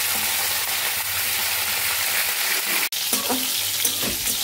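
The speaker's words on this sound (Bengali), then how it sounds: "এবার ফুলকপিগুলোকে ভেজে নেব।" Cauliflower pieces sizzle and crackle in hot oil in a pan, a steady bright frying hiss with a brief break midway and soft stirring clinks afterward.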